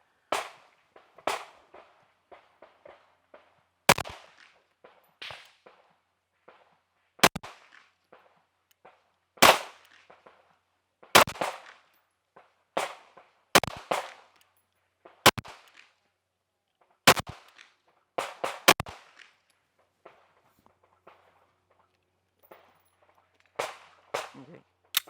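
Pistol shots crack in quick succession at an outdoor range, a long series of loud, sharp reports in irregular bursts, with fainter distant gunfire and brief murmured voices in between.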